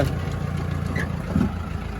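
Jeep engine idling steadily in a farm field, a continuous low rumble that stays even throughout with no talking.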